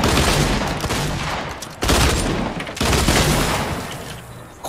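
Loud, rapid gunfire in Fortnite Battle Royale, dense bursts of shots coming in three clear waves separated by brief gaps, close and dominant with no talking.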